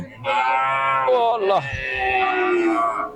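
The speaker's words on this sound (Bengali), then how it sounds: "এখানে অনেক আর ছোট ছোট গরু আছে" A calf or cow lows loudly and close at the Kalampur cattle market, one long drawn moo with a rising and falling pitch and a second lower call, no talk.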